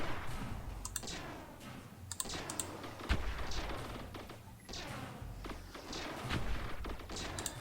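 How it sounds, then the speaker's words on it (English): Antimatter bombs firing in the space strategy game StarDrive, a dense run of sharp, crackling blasts and bursty impacts repeating irregularly across the clip at steady, moderately loud level. "Firing the antimatter bombs."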